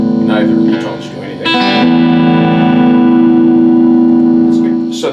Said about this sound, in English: in the bridge position, it's wide open, like a standard Strat